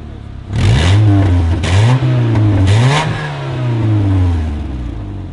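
A car with no rear or middle muffler revs hard, its raw, unmuffled engine note climbing and falling in several loud, close throttle blips with a rattling edge.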